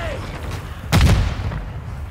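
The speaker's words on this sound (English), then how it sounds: "Grenade!" A grenade blast in Warzone 2 DMZ gameplay, a single loud, close explosion with a deep thump and crackling tail about a second in, following a quieter stretch of game ambience and distant voices.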